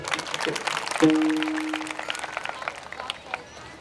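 An audience at a kirtan claps together in a dense, sustained patter, with a held musical tone and voices mixed in.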